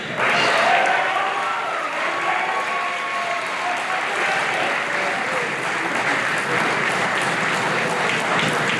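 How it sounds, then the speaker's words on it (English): An audience at a school event claps and cheers for a co-valedictorian, a loud, steady wash of applause that holds throughout with scattered shouts mixed in. "Let's give a rambunctious cheer for Mr. Harold Nye."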